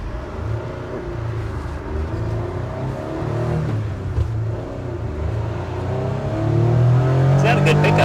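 A kei truck pulls away during a ride, its small engine droning and rising steadily in pitch under speech, growing louder and rougher toward the end as it picks up speed.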